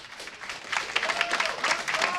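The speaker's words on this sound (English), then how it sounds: "So another round of applause, please" A live crowd at the StarCraft WCS Europe Season 3 Finals claps and applauds continuously, the sound swelling slightly, with a faint voice or tone beneath the dense patter.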